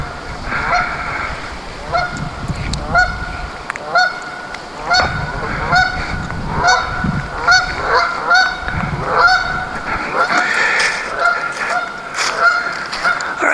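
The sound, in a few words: geese honking near a pond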